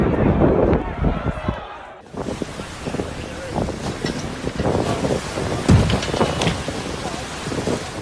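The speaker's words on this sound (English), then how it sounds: "waves from Storm Zorbas pushed boats ashore in a stunning yet powerful display" Storm Zorbas surf crashes and roars close by amid heavy wind noise, pushing boats ashore, the rush of water swelling and surging in loud, churning waves.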